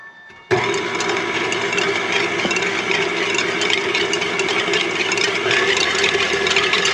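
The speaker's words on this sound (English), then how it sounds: "Now we're going to use our whisk attachment for our KitchenAid." A KitchenAid stand mixer with the whisk attachment starts up and runs steadily, whisking yeast mixture for gluten-free white bread with a constant loud motor whir and rattle close by.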